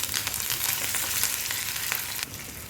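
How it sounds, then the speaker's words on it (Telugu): Curry leaves added to hot tempering oil for okra charu, giving a loud, steady crackling sizzle close up with no talking. "కరివేపాకు వేసుకుందాం"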